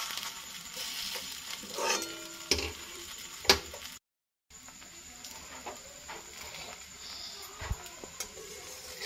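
A healthy breakfast snack fries in a small amount of oil in a pan, giving a steady soft sizzle with a few sharp clicks and taps of a turner, interrupted by a brief silent gap.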